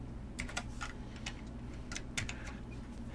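Quiet typing on a computer keyboard while entering data, a faint run of light, uneven key clicks at close range over soft room hum, with no voices.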